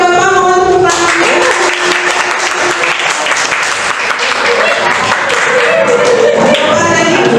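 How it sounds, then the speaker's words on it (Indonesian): Audience applause at a school or teacher-training event, loud dense clapping from a crowd that starts abruptly and continues steadily, with voices mixed in. "Ibu dan Bapak mohon tepuk tangannya."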